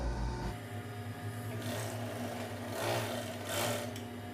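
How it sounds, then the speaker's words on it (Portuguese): An overlock sewing machine finishing the edge of kimono fabric runs in a steady, close mechanical hum with a fast stitching rhythm, rising slightly in intensity midway with no talk over it. "Esta ponta aqui a gente precisa fechar, ó, no overlock para desvirar e ela ficar limpa."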